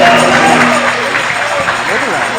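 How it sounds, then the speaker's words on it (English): Crowd cheering and clapping fills a gym after a shot at a Rectors Cup 2020 intramural basketball game, a steady roar of voices with commentators talking over it. "Crowd loved that goal."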